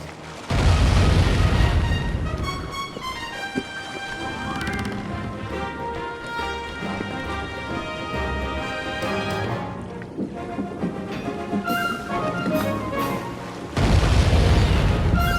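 A heavy explosion booms as an enemy ship's mast comes down in the video game Sly 3: Honor Among Thieves, a loud rumbling blast at the start and again at the end, with dramatic game music in between.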